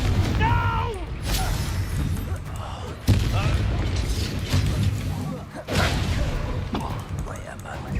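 Spell blasts from Hogwarts Legacy gameplay, the Confringo blasting curse fired again and again, give loud booming impacts and whooshes over a busy game mix, while a person keeps talking throughout.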